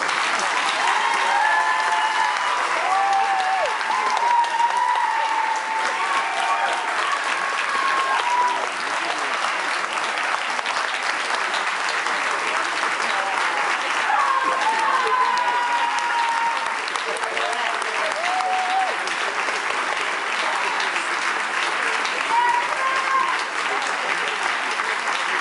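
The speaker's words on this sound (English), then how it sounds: "So rise, turn around, and by your applause," Sustained applause from a large audience at a Harvard Extension School diploma ceremony in 2011, a steady even roar of clapping that holds for the whole stretch, with faint voices and cheers mixed in.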